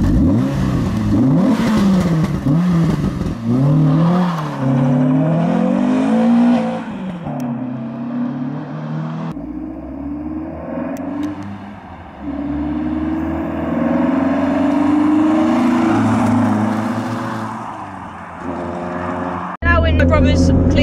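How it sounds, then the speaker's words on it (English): A modified, cammed Renault Clio 182 making about 194bhp with a Scorpion exhaust revs up and down in repeated rising and falling sweeps, loud and close, with people talking over parts of it and a sharp burst near the end. "We got obviously the Scorpion exhaust giving the sounds from the back"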